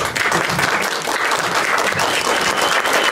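Dense, even applause from an audience at an academic colloquium, loud and sustained for a few seconds with no pauses.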